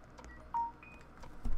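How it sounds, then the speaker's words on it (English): A short in-game notification tone sounds during Roblox gameplay, a brief clear beep rising out of low background game noise, heard once without any talking. "Hey look, I got a notification."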